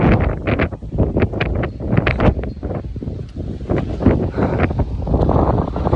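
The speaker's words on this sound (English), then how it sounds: "Totally windy." Steady wind buffeting the microphone, a loud rough rumble with gusty bursts throughout.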